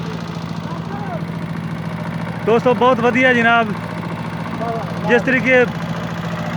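A small tractor pulling a homemade plough idles in a steady low chug under someone talking, the engine's even pulse continuous and close throughout.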